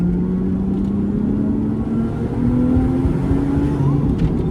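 Lotus Exige V6 engine pulling hard under acceleration, a loud, steady, rising drone with gradually climbing pitch that carries through the whole stretch, close and continuous with no talk.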